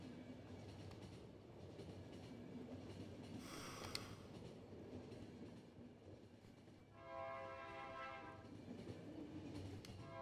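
A train rumbles along in Final Station, a faint, steady rolling drone with a brief hiss midway and a tonal horn-like blast near the end, all quiet and distant.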